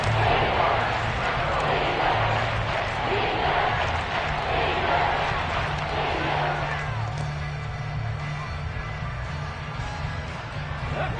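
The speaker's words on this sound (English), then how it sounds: "the crowd getting into it as we come up on a big 3rd down" A packed American football stadium crowd cheering and roaring steadily ahead of a big third down in a Saints versus Panthers game, a dense, loud wash of voices that never lets up.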